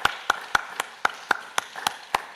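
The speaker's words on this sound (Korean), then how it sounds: "우리 이분에게 박수 한번 보내십시다" Claps ring out in a church during an early-morning congregational service, a series of about ten sharp, evenly spaced claps with faint room echo and no crowd noise.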